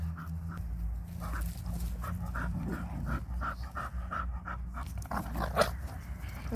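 A bull terrier pants steadily with quick, rhythmic breaths close by while playing with another dog, over a low background hum and some faint rustling.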